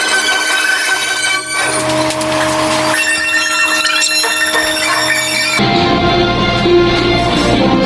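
A phone rings back while a call is placed, at a children's first birthday party in a Jollibee restaurant; steady tones repeat through a busy, loud background of music and crowd noise, with a sudden shift midway.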